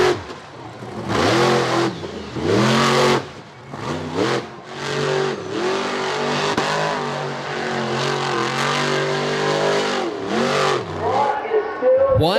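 Stone Crusher monster truck's engine roars and revs repeatedly during a freestyle run at Charlotte Motor Speedway in 2018, its pitch surging and dropping in loud bursts.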